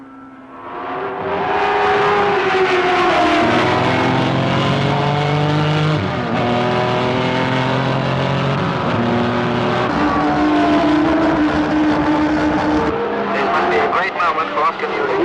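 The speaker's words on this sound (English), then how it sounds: "And straight out ahead and into the first bend go Bo Ellington and Lee Leonard" Racing cars in a 1965 televised race scene roar loudly as they speed into the first bend, engines revving and shifting pitch over several passes, with a commentator talking over them.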